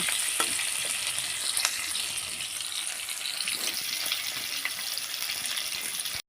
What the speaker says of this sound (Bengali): পেঁয়াজটা একদম সুন্দর লাল করে ভেজে নেব